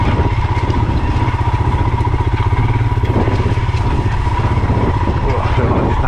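Royal Enfield Himalayan 411 motorcycle ridden along a wet, rutted trail, its single-cylinder engine thumping in a steady close rhythm with clatter over it, while a rider talks.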